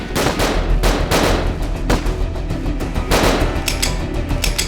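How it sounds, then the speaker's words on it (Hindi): Repeated bursts of gunfire, loud and close, with sharp rapid shots in clusters separated by short pauses. "करिश्मा सिंह, हमारी गोलियां खत्म हो गई"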